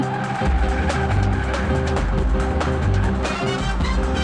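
A car speeding in a Hindi-dubbed action movie scene: a loud, steady engine drone with squealing tyres and skidding, mixed with dramatic background music throughout.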